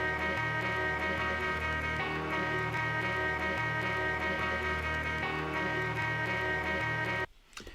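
A time-stretched sample triggered from a Maschine MK3 pad plays as a steady, dense looping phrase with a low repeating pulse, fairly quiet and sustained, cutting off near the end.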